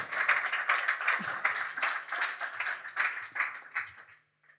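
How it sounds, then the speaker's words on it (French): An audience at a panel discussion applauds steadily for several seconds, a dense wash of many hands clapping at moderate distance that gradually thins and stops near the end. "on peut l'applaudir aussi"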